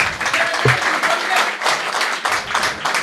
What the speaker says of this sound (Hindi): आपने तालियाँ बजाई हैं